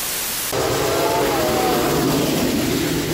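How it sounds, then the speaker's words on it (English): A steam engine whistle starts abruptly and holds as a sustained, loud, breathy tone over heavy hiss, carrying on without a break to the end. "Steam engines have whistles that sound like this."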